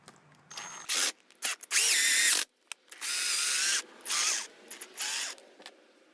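A power drill runs in short and longer bursts as it drives a bigger screw into a PVC bow. The whirring is close and loud, with stop-start pulses and a few brief clicks between runs, and there is no talking.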